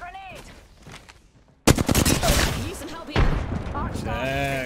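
Gunfire in Apex Legends: a sudden loud burst of rapid automatic shots and booming blasts breaks in after a quieter stretch, with a voice talking over the battle.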